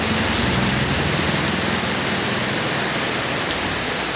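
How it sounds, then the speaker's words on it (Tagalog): Heavy rain pours down in a dense, constant roar, loud and close with no pauses. "Lakas ng ulan"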